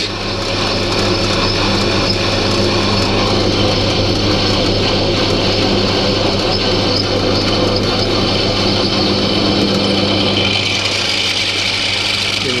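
An 11.5mm drill bores steadily through the ear of a cast metal moulding box, a loud, continuous whining grind held at an even pitch for several seconds before easing slightly near the end.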